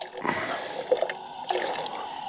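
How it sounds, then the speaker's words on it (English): Cold water is poured into a pot of coffee grounds to settle them at a winter truck campsite, giving a soft, close splashing and trickling with a few drips, with no talk over it. "we're gonna put a little bit of water in there, cold water, to get the grounds to drop"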